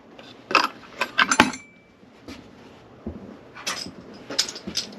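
A saw blade sharpening jig with a spring steel catch is clamped down, giving a quick run of close metallic clinks and clatters, a pause, then a second cluster of small metal knocks.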